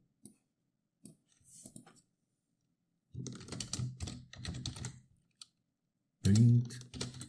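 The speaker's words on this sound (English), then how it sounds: "Type the following code." Code typed on a computer keyboard: short flurries of crisp key clicks come in a few separate bursts between silences, close and clear, with a voice speaking briefly among them.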